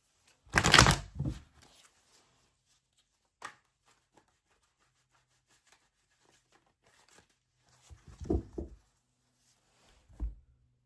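Tarot cards are shuffled and tapped in a few short bursts separated by quiet pauses, close and crisp, with no voice.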